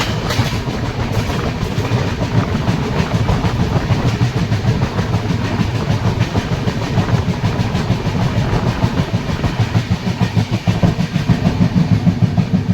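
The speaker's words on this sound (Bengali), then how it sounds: "ট্রেন এবার দ্রুত গতিতে চিলবিলা জাংশন স্কিপ করতে চলেছে।" A New Delhi–Malda Town Express rushing at speed past a junction in the early morning, a steady loud roar of wheels and rattling carriages with faint clickety-clack throughout, heard close from the train itself, no talking.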